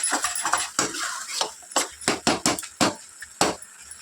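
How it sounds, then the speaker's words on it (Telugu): Soft tomatoes for egg tomato curry are mashed in a pan with repeated close knocks and scrapes of a utensil against the metal, in an uneven series of about ten sharp strikes. "ఇప్పుడు సాఫ్ట్గా అయ్యి ఉంటాయి కదా టమాటాలు, ఇలా మ్యాష్ చేసుకోవాలి"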